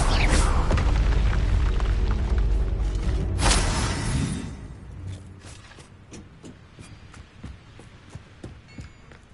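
A magical Confringo fire spell blasts in Hogwarts Legacy, a loud booming burst at the start with a second heavy impact around the middle, then scattered thuds and clatter trailing off more quietly.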